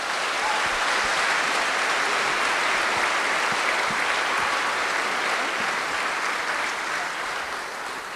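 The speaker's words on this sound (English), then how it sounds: "A round of applause for them." Sustained applause from a large audience after a youth panel session, steady and dense throughout, tapering only slightly at the end.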